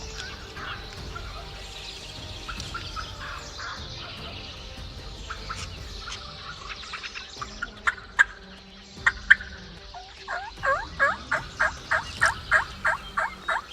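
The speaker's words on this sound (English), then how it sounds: "Seems like there's 3 gobblers." Several wild turkey gobblers gobble in springtime woods, first in distant overlapping bursts, then in a loud, rapid run of repeated gobbles close by, with no talking.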